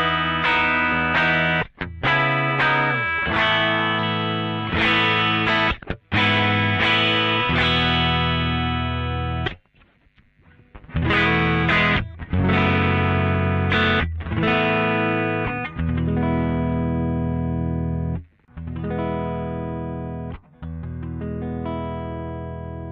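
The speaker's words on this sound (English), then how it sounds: "I'm also going to strum again with a moderate to high intensity from my bridge to my middle to" Electric guitar strummed hard through a pedal chain with a compressor, switching from bridge to middle to neck pickups; repeated driven chord strums with short pauses between bursts, loud and close, no talking.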